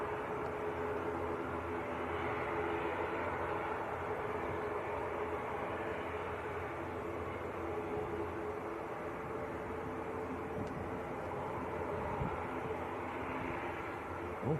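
Loganair Embraer regional jet coming in to land at Manchester Airport, a steady broadband jet roar holding at moderate level throughout, fairly distant and without talk.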